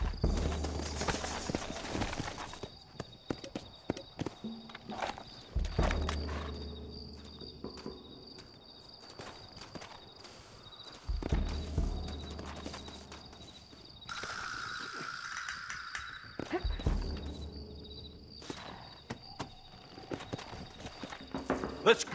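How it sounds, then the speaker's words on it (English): Steady hoof clip-clops from horses in Red Dead Redemption on Xbox One under frequent bursts of speech and game noise, with a constant insect-like whine running through. "Looks like Carlos left us some horses."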